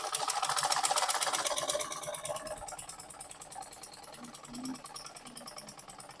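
Sewing machine running fast along a dress sleeve seam, a dense rattling whir that is loudest at first and then eases, with a brief low voice near the end.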